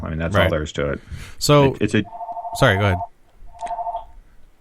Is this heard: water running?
no